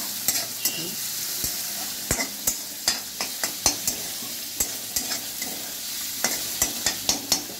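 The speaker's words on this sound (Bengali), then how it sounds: "তারপরে দেবো আদা দিলাম, এবারে এটাকে ভাজবো" Chopped ginger and garlic fry in hot oil in a pan as a spice paste for a Loita fish curry: a steady close sizzle broken by sharp, repeated spatula clicks and scrapes, with no talking.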